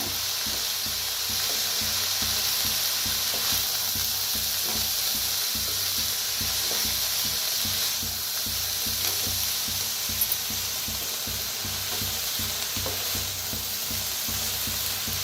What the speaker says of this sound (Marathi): आता मिक्स करून भाजूया